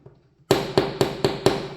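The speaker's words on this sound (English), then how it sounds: "Center punch in the middle, holding the squares. Tap, tap. 2 taps." A hammer taps a center punch on metal five times after a moment of silence, evenly spaced ringing metallic strikes, close and fairly loud.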